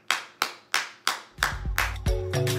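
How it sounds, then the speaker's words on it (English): Hands clap in a slow, evenly spaced series of sharp close claps, about one every third of a second, before a low rhythmic musical beat enters and continues beneath the final claps. "Give them a round of applause."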